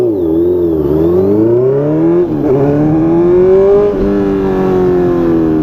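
Honda CB650F four-cylinder motorcycle engine revving close up, a loud steady harmonic drone that rises and falls with throttle blips and a brief dip midway, running alone without talk.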